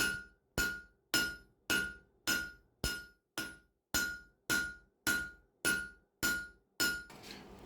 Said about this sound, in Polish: wszystko wyrównamy i spłaszczymy do końca czołem młotka, tak by uzyskać gładką powierzchnię